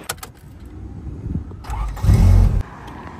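A long-idle Infiniti Q45 being started after three weeks unused: a brief crank followed by the engine catching with a loud, close low-frequency roar that holds for about half a second, then settles to a quieter idle.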